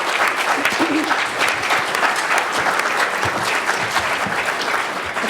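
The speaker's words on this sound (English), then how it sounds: "If we could just give our speakers a round of applause to thank them." An audience at a 2016 candidate forum breaks into steady, full applause to thank the speakers, a dense, even wash of clapping that holds for several seconds.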